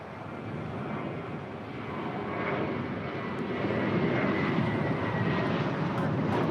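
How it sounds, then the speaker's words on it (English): A Breeze Airways jet lands on the south side at LAX, a broad engine roar building steadily and staying loud near the end, with no talk over it. "We got Breeze touching down here on the south side."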